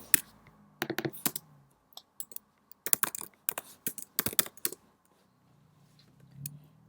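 Typing Python code on a computer keyboard, crisp close key clicks in uneven bursts separated by short pauses, with no talking.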